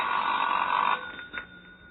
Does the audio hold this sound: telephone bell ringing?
yes